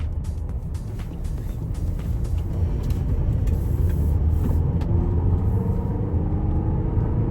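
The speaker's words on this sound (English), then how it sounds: "It is a 4-cylinder though. It sounds like a 4-cylinder" Inside a 2025 GMC Acadia three-row SUV with a four-cylinder engine, a steady low engine drone and road rumble build gradually as it accelerates, with faint clicks above and no talking.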